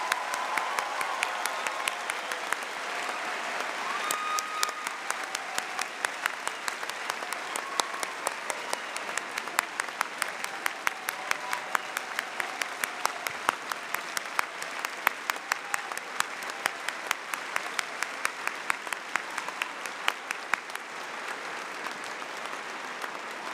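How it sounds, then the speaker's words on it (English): Sustained, dense applause from a high school graduation audience in 2022, a steady roar of many clapping hands that holds evenly for over twenty seconds with no speech over it. "So please join me in a round of applause"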